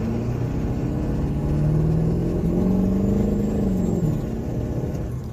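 A 1997 Ford F-250HD with a 7.3L diesel and a cylinder contribution fault pulls away from a dead stop, its engine note rising through a gear and easing off again, heard from inside the cab.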